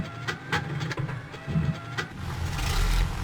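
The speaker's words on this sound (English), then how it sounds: "Let's see if we get a motor." Radial engine of a Grumman Duck aircraft in MSFS 2020 cranking with several rhythmic chugs, then catching and building into a steady rising rumble, close and fairly loud.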